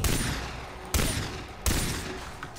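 Gunfire in the video game Far Cry 3, with three loud, sharp shots spaced about a second apart, each followed by a decaying rumble.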